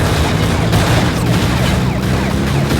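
Rapid gunfire from the Pursuit Force video game, a dense continuous volley of shots and impacts over busy game sound, loud and sustained throughout.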